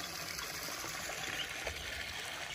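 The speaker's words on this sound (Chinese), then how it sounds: "我们现在放满满一桶水，让二驴表演洗澡绝技" Water from a tap runs steadily into a bucket as it fills for a pet myna bird's bath, a faint continuous trickle and splash with no voices.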